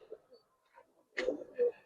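Giribaz pigeons coo softly a couple of times nearby, brief low calls among faint background noise and murmured talk.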